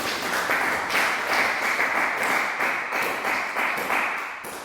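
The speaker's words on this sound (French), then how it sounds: "Acclame Jésus, acclame le Seigneur." A church congregation claps and applauds together in a steady rhythmic beat during an evangelical service, a dense, fairly loud patter of hands with no voices standing out.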